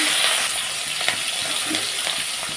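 Black cumin seeds hitting hot oil in a pan, giving a loud, steady frying sizzle with a few faint clinks, close up and alone throughout.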